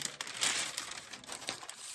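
Paper is crumpled and crinkled by hand for a Christmas tin makeover, a quiet, close, irregular crackling over about two seconds with no voices.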